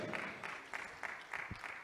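Applause at a 20th anniversary celebration for a company introduction: faint, rhythmic clapping with regular pulses, like a small group clapping in time.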